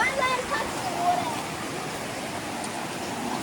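Rainforest creek water flowing steadily at Finch Hatton Gorge, a constant broadband rush filling the whole clip, with family voices faintly audible over the water.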